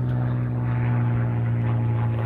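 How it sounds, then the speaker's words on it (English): A propeller airplane passes overhead with a steady, droning engine hum. It sounds moderately distant and constant throughout, with no talking. "Got an airplane above us."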